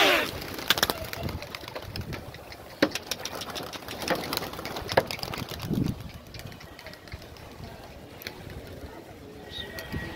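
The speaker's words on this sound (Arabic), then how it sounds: "وادي الحمام كله سايب في قلب بعض." Pigeons coo softly inside a crowded 5 by 5 pigeon loft, low murmuring calls scattered across the clip with some wing flutters and clatter nearby.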